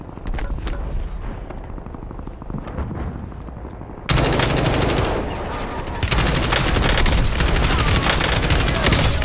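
Sustained automatic gunfire and bursts in Black Ops 6 Warzone Resurgence on Verdansk, loud and dense throughout, growing heavier partway through with booming impacts mixed in.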